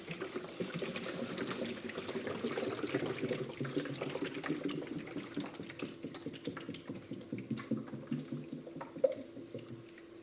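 Water pours from two small squares into a larger square, a soft, continuous trickle with small splashes and drips, quiet and close, turning into intermittent dribbles toward the end.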